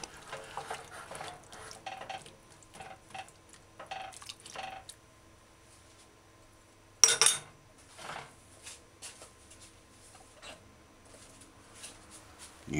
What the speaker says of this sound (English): Stir it in.